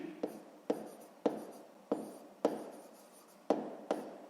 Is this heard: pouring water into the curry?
no